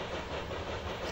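A broken train in the video game OFF gives off a steady, dense rumble with a faint rolling clatter, continuous and fairly loud throughout.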